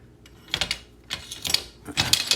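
Vintage Hartford Clamp Co. bar clamps handled at close range, giving three short bursts of metallic clicking and ratcheting, each a rapid cluster of clacks from the clamp mechanism.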